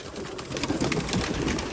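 Pigeons freed from a net coo and murmur close by, a dense overlapping burble of several birds that holds steady throughout, with no voices.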